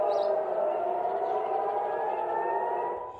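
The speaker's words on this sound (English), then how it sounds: "Sirens rang out as Israeli air defense systems swung into action." Civil defense air raid siren wailing in Israel during a missile attack toward Ben Gurion airport: one long, steady, loud tone held for about three seconds, fading slightly at the end.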